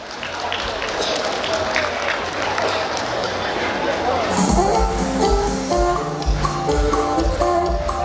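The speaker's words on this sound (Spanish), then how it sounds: "fuertes los aplausos" Wedding guests in San Agustín Oapan applaud steadily amid crowd murmur, then festive music enters about halfway through and carries on under the thinning claps.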